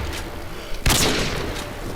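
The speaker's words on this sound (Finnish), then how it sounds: "Ammuin seinän läpi sua" One close, sharp, loud blast of gunfire in Call of Duty Modern Warfare 2, set against steady background game noise, with a muffled rumble trailing after the shot.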